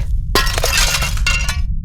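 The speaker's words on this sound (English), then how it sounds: "Another painting fell, shattering on impact." A falling painting's glass shatters in a sudden loud crash, followed by a burst of breaking, tinkling shards that carry on for over a second with further clinks, no voices present.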